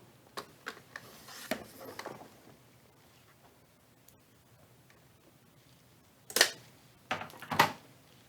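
A paper trimmer cutting card stock for a slimline card: a few soft scattered ticks and slides, then two sharp, close crisp cuts near the end, quiet between them.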